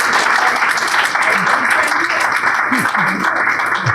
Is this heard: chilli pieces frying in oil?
no